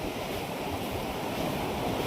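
A river rushes in a steady, broadband wash of flowing water, close and constant, with some wind-like noise over the microphone and no talking.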